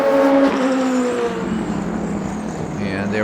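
An LMP2 prototype race car in the Le Mans Ultimate game, its engine note rising then fading as it passes and brakes toward the first Mulsanne Straight chicane, under a commentator's steady talk.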